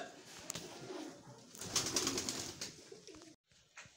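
Pigeons perched on poles coo softly and repeatedly, a quiet, intermittent murmur with a little rustling nearby.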